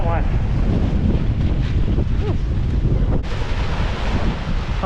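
Hurricane Ian's 45–50 knot wind roars continuously on the seawall at Islamorada in the Florida Keys, buffeting the microphone, with surging water beneath it and a faint voice caught in the gusts.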